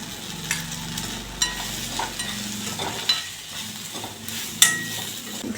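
Tomatoes with turmeric frying in a pan, a soft steady sizzle with occasional scrapes and clinks of a stirring spoon against the metal, close by and with no voices.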